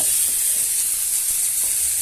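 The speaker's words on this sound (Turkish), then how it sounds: "Kızartayım az bir şey." Food frying in a pan for imam bayıldı gives a steady, bright sizzle that hisses continuously throughout, close by and fairly loud, with no voices.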